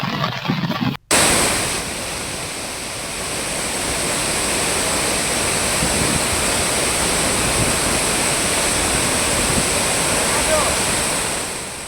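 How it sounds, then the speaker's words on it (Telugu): Bhairavakona waterfall in full flow during heavy rain, a powerful continuous roar of rushing water, loud and steady after a brief cut at the start. "భైరవకోన పర్యాటక కేంద్రం వద్ద జలపాతం ఉధృతి ఎక్కువగా ఉండటంతో"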